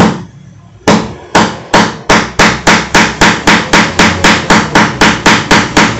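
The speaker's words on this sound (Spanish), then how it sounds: "Vamos con el martillito." A small hammer taps a pin into a Gato padlock while a key is being made, sharp metallic strikes coming in a quickening steady rhythm of about twenty close, loud hits after a brief quiet start.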